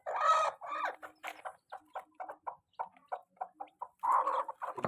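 Hen clucking while being lifted after hatching chicks, giving a run of short, evenly spaced clucks that fill the clip, with louder flustered squawks at the start and end, close and alone.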